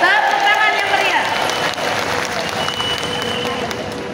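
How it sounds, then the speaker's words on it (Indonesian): Lively audience applause at a formal speech event, dense clapping loud and near from the start, with a brief voice over the opening second before the clapping carries on alone and eases slightly. "Tepuk tangan yang meriah."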